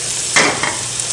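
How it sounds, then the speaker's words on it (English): A rubber spatula scrapes the sides of a pan before eggs go in for a veggie scramble: one loud, close scrape followed by a shorter second stroke, then quiet room tone, with no voices. "A little rubber spatula here. Gotta scrape the sides."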